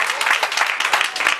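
A short burst of dense, continuous applause rises from an audience at a ceremony, with many hands clapping at once close to the listener.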